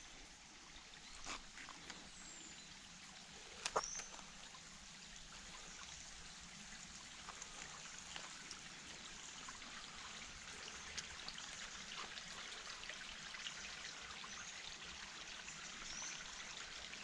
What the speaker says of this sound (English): I was glad to see some water running there.